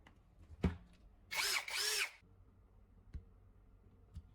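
A power drill whines in two short, loud bursts while drilling mounting holes for a guide on a bench grinder, separated by a brief dip, with a few sharp clunks and taps before and after.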